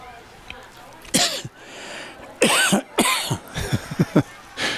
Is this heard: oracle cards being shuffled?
no